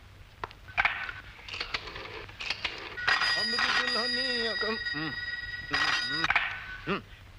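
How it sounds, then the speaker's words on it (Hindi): A telephone rings with a bright electronic trill in repeated bursts, alongside musical tones and a few clattering sounds. "अरे मक्कड़ साहब, सर आपका फोन है।"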